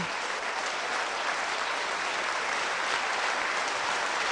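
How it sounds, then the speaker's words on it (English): Football crowd at Halifax Town's ground giving a standing ovation after a 6-0 win over Telford United in 1993: continuous, broad applause from a large distant stand, steady and washing without pause. "the crowd standing in appreciation"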